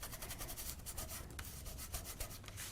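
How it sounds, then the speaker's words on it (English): Paper die cut being burnished with glitter, a quiet, rapid back-and-forth rubbing scrape in repeated short strokes, close to the mic, with no talk. "Sort of burnish it all the way around"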